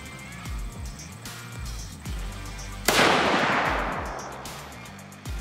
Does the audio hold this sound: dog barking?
no